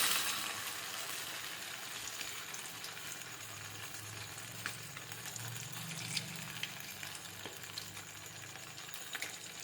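Steady, faint frying sizzle of fish in hot oil, a continuous bubbling crackle heard from a short distance with no talking.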